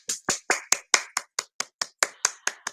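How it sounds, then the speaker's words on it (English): About a dozen separate, evenly spaced claps ring out at a brisk, steady pace for pupils at a virtual mathematics club. They are close and sharp, with no voices. "Let's clap for those people."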